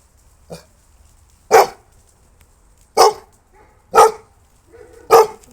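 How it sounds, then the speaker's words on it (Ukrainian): A Labrador barks five times in reaction to an explosion in Zaporizhzhia, single sharp barks spaced about a second apart, fairly close, with quiet gaps between. "І бачите, як реагує собака. Це лабрадор е, прореагував."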